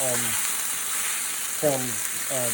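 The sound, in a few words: onions sizzling in pan after cooking venison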